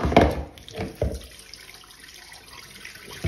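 Water runs and splashes over freshly peeled potatoes tipped into a Thermomix Varoma steaming basket. A few sharp splashy bursts come first, then a softer steady trickle of rinsing close by.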